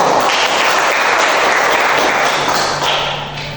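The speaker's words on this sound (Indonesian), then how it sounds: "tepuk tangan untuk kita semua" A class of students claps for themselves at the close of a lesson, a loud, dense burst of many hands clapping together that holds steady, then fades off toward the end.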